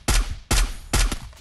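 Gunfire in the Free Fire mobile battle royale game, three loud, close shots spaced evenly about half a second apart, each with a sharp crack and short decaying tail.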